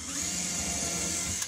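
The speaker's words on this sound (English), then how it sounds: "This table I'm drilling into here" A power drill bores into a homemade table built from an old Rubbermaid table frame, giving a steady, continuous whine close by that runs through the whole moment, with a brief sharp knock near the end.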